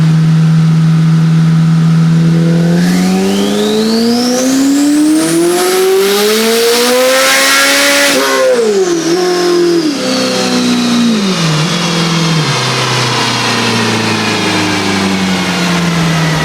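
A highly modified Corvette C8 Z06 making over 1,000 horsepower roars on a Mustang chassis dyno. The engine climbs in a long, loud rising wail, peaks and then falls back in stepped drops. Close and powerful, with no talking.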